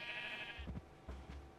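Sheep in the Minecraft video game bleating twice, short close bleats following a faint high tone, with no talking.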